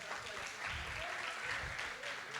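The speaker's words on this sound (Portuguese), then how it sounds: "Ó, dá uma salva de palmas pra eles, gente" A faint, steady round of applause from a crowd, heard at a distance with low murmuring beneath it.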